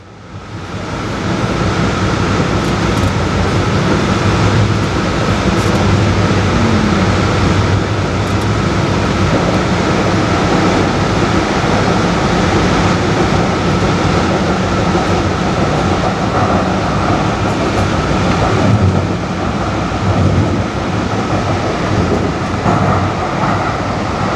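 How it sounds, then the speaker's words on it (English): A DART Orange Line light rail train rumbles loud and steady as it heads into a subway tunnel beneath Central Expressway, with constant wheel and rail roar and faint clicks throughout. "Our Orange Line train continues on with the red and blue lines as we prepare to travel deep underneath Central Expressway in a 3-mile subway tunnel"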